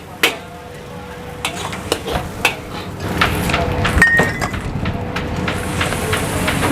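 Nasi goreng kampung stir-fried in a wok at a busy food stall on a Sunday night, with sharp metal spatula scrapes and clanks over a steady sizzle that builds louder midway, amid kitchen bustle.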